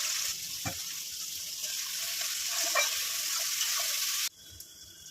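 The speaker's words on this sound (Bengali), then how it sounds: "পেঁয়াজটাও ভেজে নেবো রসুনের সাথে" Chopped onion and garlic cloves fry in hot oil, a steady close sizzle with a few stirring scrapes, cutting off abruptly near the end.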